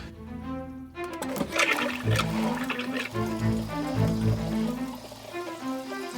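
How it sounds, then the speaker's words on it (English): An RV toilet flushes during winterizing as antifreeze runs through the lines, a loud gushing rush of liquid swirling and pouring steadily for several seconds, with no talk. "let's check the toilet now"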